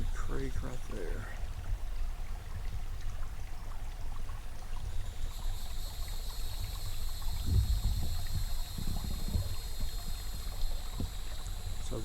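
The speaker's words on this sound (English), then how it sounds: "There's the creek right there." A creek flows steadily through woodland at a solo camp, a constant broadband rush of running water heard at close range throughout.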